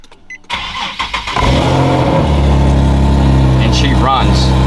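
An Infiniti G37 with an exhaust leak, sitting unused for a year, cranks in a few quick bursts, catches, and settles into a loud, steady idle, with a voice briefly heard over the running engine.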